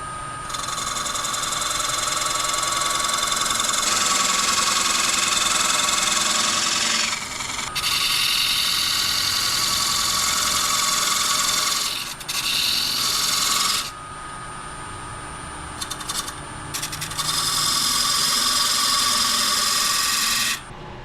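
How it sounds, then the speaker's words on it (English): A wood lathe spins a walnut bowl while a thin curved parting tool cuts a dovetail groove, giving a steady, loud whirring scrape that runs continuously with brief dips and pauses as the cut is eased off and resumed. "I'm going to use another tool, my thin curve parting tool, to make a little bit of a dovetail so it'll hold that pewter in there"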